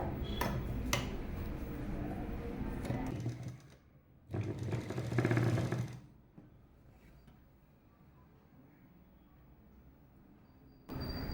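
Sewing machine stitching a chudidar top, with clicking handling sounds, a short buzzing run of stitching in the middle and then quieter fabric rustles and faint taps.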